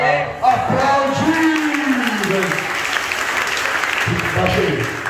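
A church congregation applauds during a lively worship service, steady clapping mixed with loud shouting and singing voices that carry over the top throughout.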